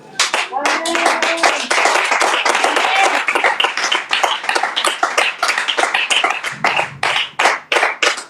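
A church congregation claps and cheers during a service: dense, loud applause of many hands close by, thinning toward the end into a few scattered claps, with voices calling out underneath.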